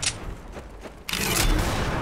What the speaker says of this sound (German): Seht ihr, ein Headshot und ein normaler Schuss.